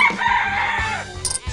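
Rooster crowing and clucking from a chicken-fighting video game, a bird calling steadily throughout at close, moderately loud level, with no talking.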